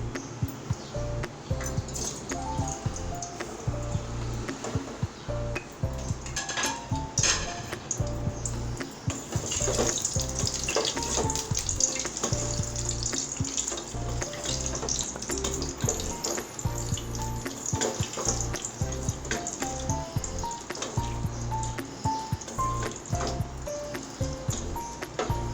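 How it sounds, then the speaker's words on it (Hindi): Eggs fry in a pan over browned onions for a potato and egg curry, making a steady, dense sizzle that hisses and crackles continuously at close range, without speech. "अब हमने इसमें डालने हैं अपने अंडे फ्राई करने।"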